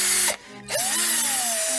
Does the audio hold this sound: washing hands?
no